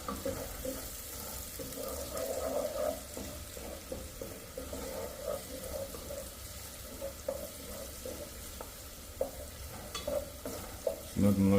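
Onions cooking in a pan until translucent, giving a steady close sizzle with soft stirring scrapes and small pops throughout, heard without talk.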